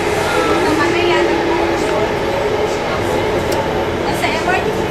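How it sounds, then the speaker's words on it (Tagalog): Steady rumble of a moving MRT metro train heard from inside the carriage, a continuous broadband roar with squealing tones running throughout, while people talk over it. "Nasa MRT po kami ngayon."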